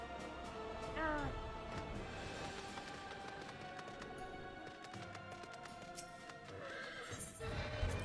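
A horse whinnies in the video game Final Fantasy XIV near the start with a rising, wavering call, then another neigh follows later over steady ambient noise and faint hoof movement.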